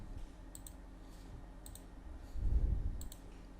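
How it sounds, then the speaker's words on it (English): A computer mouse gives faint, quick double clicks, three distinct pairs spread across a quiet room, with a soft low bump of handling noise near the end. "So just double click it to extract the zip file."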